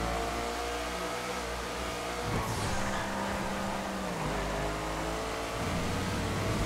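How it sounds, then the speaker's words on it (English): A car drives through rain with a steady engine drone under a constant wash of hiss, close and fairly loud, with a brief surge in the engine note partway through. "it's definitely more challenging in the rain with this car."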